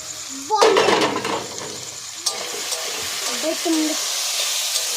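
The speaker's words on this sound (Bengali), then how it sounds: "এদিকে আমার আলু ভাজাটাও হয়ে গেছে" Potatoes fry in a pan with a close, continuous sizzle as they are stirred, bringing a loud clattering scrape near the start and another shortly after, while a voice speaks briefly in the background.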